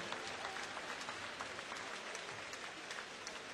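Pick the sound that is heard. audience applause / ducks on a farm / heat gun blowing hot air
audience applause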